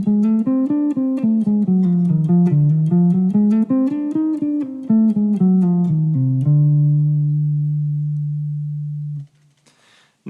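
Hybrid scale lines over Coltrane changes played as a quick run of single melodic notes with a tuner-like tone, ending on one long sustained low note that fades out, alone with no voice.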